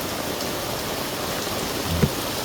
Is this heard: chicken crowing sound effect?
no